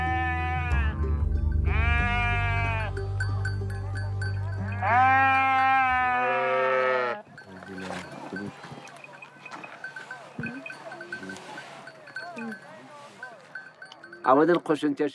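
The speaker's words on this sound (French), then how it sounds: "Il y a un agneau qui vient de naître." A newborn lamb and adult sheep bleat over and over, loud and close, among nomadic herders in Iran, with people talking in the background.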